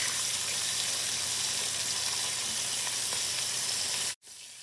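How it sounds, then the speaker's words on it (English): Short ribs searing in hot oil and butter in a pan give a steady, loud, close sizzle and crackle that cuts off abruptly near the end, with no talking. "I'm almost done searing all sides of my ribs"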